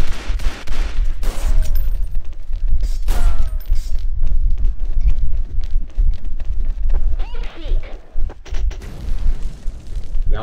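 Gunfire in the XSHOT shooter video game during an esports tournament match, rapid bursts and booming shots piling up densely, with a commentator talking over the action.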